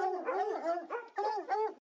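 Greyhounds bay and yelp while hunting foxes in a French-dubbed animated film, several short tonal howling barks in quick bursts, close and clean.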